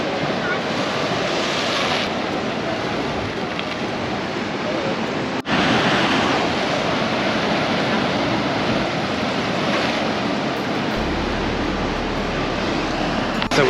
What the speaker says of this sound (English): We're right on the water as the waves are breaking over the rocks.